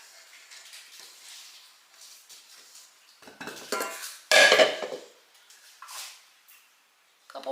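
Metal utensils clink and scrape against a bowl as powdered sugar and heavy cream are mixed into sugar cookie frosting, with scattered soft taps and one sharp loud clatter partway through.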